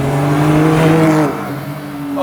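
A 670 hp carbon-bodied supercar accelerates hard, its loud, close engine note climbing steadily in pitch before easing briefly and building again.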